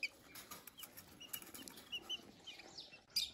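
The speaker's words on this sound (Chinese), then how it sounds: "你们看一下这两只小鸡吃个食物" Two young chickens scuffle about inside a cage, with soft, irregular bursts of wing flapping and rustling that stay faint and fairly close, plus a sharper flutter near the end.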